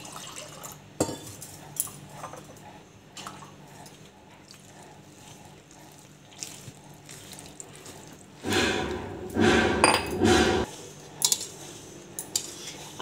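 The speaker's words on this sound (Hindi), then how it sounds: "अब थोड़ा थोड़ा करके हम पानी डालते जाएंगे।" Utensils clink softly, then water pours in a brief splashing stream into a bowl of flour and yogurt for bhature dough, followed by a few more light clatters.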